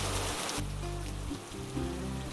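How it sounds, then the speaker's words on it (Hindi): Steady, dense rain pours down with a constant hiss, while low music plays underneath. "घने बादल आए और बहुत जोरों से बारिश होने लगा"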